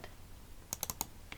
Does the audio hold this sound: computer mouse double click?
yes